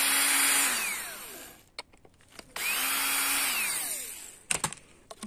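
A power screwdriver backs screws out of the wooden crate slats around a delivery of conifer plants from a nursery, two long whining bursts with clicks and knocks between them, close and loud.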